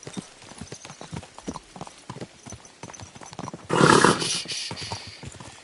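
Horse hooves clip-clop in a steady trotting rhythm in the video game Kingdom Come: Deliverance II, close and clear, followed by a louder burst of noise partway through.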